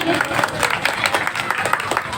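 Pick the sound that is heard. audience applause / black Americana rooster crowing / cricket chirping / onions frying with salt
audience applause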